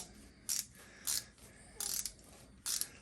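A DEWALT ratcheting T-handle hex key wrench clicks in four short, crisp bursts spaced about half a second apart, each a quick ratchet rattle heard up close with no talking.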